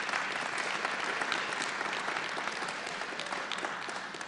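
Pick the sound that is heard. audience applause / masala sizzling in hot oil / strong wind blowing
audience applause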